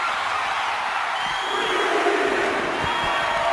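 A WWE 2K26 video game arena crowd cheers in a continuous loud roar with scattered whoops and shouts, holding steady throughout.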